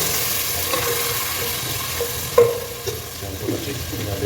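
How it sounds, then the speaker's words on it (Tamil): Onions with ginger garlic paste sautéing in a pan for a mutton gravy, giving a steady low sizzle with occasional stirring scrapes and one sharp clink, no talking. "ஒரு 3 நிமிஷம் அப்படியே வதங்கட்டும்"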